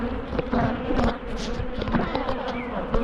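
Angry honey bees swarm around an opened hive, a dense, continuous buzzing drone close by with individual bees zipping past the microphone, steady and loud throughout.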